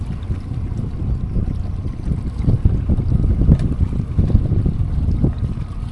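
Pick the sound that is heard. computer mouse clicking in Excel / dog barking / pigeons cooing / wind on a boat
wind on a boat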